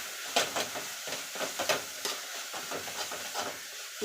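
Mint and two green chillies sautéing in oil in a pressure cooker for biryani: soft sizzling and hissing with quick scraping stirs in uneven bursts, fairly close and alone.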